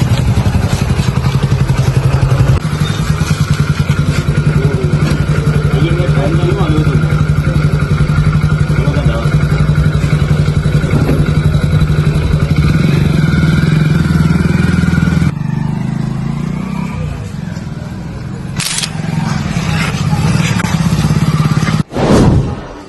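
A motorcycle engine idles loudly and close for a long stretch with a steady throbbing rumble, then drops off, followed by a few clunks.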